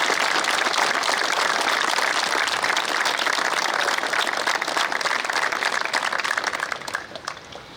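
Audience applause at a 20th anniversary celebration of the 10th MOTB, a dense, sustained round of clapping that thins out and fades toward the end.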